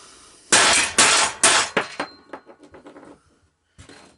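Sharp metallic hammer blows ring out during a 50-inch GT6000 mower deck teardown: three loud, evenly spaced strikes, then a run of quicker, fading taps, a pause, and one final hit, close by with no talking.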